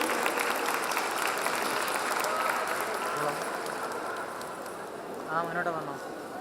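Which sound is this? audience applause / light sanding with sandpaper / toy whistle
audience applause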